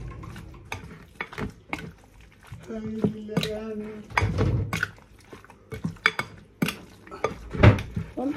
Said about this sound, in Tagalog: I-mix na natin ito.